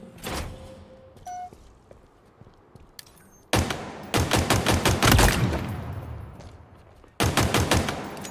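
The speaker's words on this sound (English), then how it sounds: "the gun is supposed to be fired in short bursts" Short bursts of rapid automatic gunfire from a Halo Infinite multiplayer match ring out loud and close. Three clusters of quick shots are separated by quieter stretches of game ambience and a few clicks.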